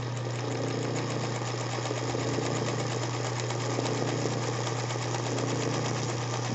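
A sewing machine stitches zigzag on fabric for a child's bedsheet, running in one continuous steady mechanical whir with a fast needle clatter and a constant low hum, close and unbroken throughout.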